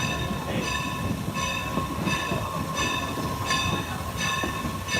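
A Strasburg Railroad passenger train rolling along the line, heard from on board: a steady rumble with regular clicking beats from the wheels and a constant tonal whine, alone with no talk.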